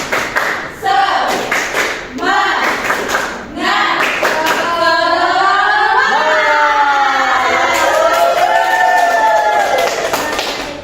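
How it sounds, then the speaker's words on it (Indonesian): A classroom of students claps a rhythmic group spirit clap, bursts of sharp claps in patterned groups, then the class chanting together loudly in unison. "Tepuk semangat."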